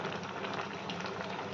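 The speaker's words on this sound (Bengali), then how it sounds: "এটা বেশ ভালো করে ফুটবে," Lentil dal bubbling steadily in a pot, a dense, even boil of close, continuous bubbling and popping with no voices.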